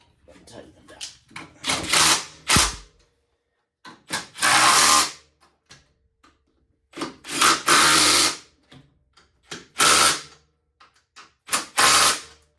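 A power tool tightens bolts on aftermarket coilovers for a lowered Volkswagen GLI, firing in short repeated bursts of whirring with pauses between, close and fairly loud, with a few clicks and handling noises in the gaps.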